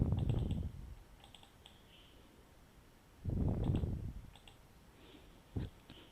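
Computer mouse clicks while a document page is set up, a handful of sharp close clicks spread unevenly, separated by low thumping bursts and quiet gaps with no speech.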